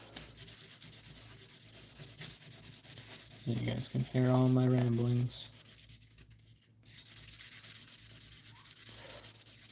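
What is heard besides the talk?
polishing opal with 1000 grit sanding pad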